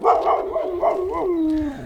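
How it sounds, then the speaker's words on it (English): A dog aboard a sailboat gives a quick run of close, loud barks and yips that trail off into a whining tone. "What are you barking at?"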